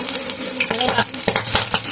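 Garlic fries in hot oil for Mumbai-style vada pav, a loud, close, busy sizzle broken by quick stirring scrapes and bubbling bursts.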